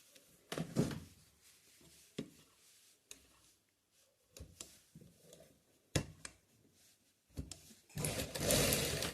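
Sewing machine stitching fabric for slippers runs in short rapid bursts separated by pauses, each run a dense mechanical clatter, close and fairly loud.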